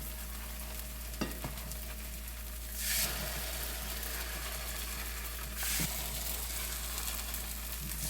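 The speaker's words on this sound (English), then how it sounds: "Alright, so we're gonna let it fry up" Sweet potato pancakes fry in a pan with a steady, soft sizzle throughout, broken by a couple of brief louder bursts of crackle near the start and the middle.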